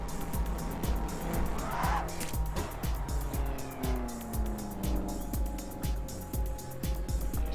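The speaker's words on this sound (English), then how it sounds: "this is the big wheel Power Trike" The big wheel Power Trike in the video game Trailmakers drives with a revving motor and repeated tire squeals, a continuous engine drone broken by regular skidding pulses.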